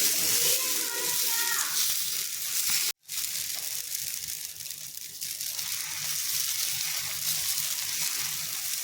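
Spinach dosa batter made with mudakathan keerai spreads across a hot pan with a steady, close hiss and sizzle that runs almost the whole time, broken only by a brief cut near the start.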